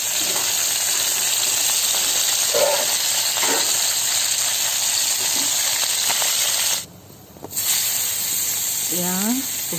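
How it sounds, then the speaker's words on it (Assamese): Fish pieces fry steadily in hot oil, giving a loud, continuous sizzle and crackle that runs nearly unbroken, with a brief dip near the end. A voice speaks faintly at the very close. "এয়া প্ৰথমতে মাছখিনি ভাজিবলৈ লোৱা হ'ল।"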